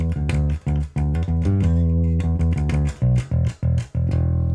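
A bass guitar is plucked softly and comfortably in a riff, a run of repeated, slightly choppy notes with short gaps between some of them, close and clear with no talking.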